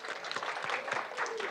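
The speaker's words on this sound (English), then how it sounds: "Everybody give Sana a round of applause." A brief burst of audience applause for a volunteer at a Mad Science fire and ice show, a quick crowd of clapping hands in a hall, lively and fairly close.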